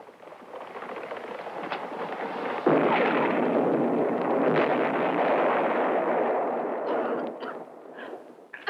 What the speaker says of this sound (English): Uncle Andre, I'm scared of explosions.